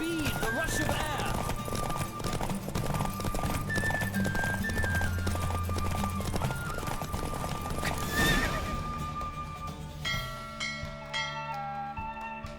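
A horse gallops at speed during a race in The Witcher 3, its rhythmic hoofbeats steady and close under game music, with a whinny among the hoofbeats and a bell ringing near the end.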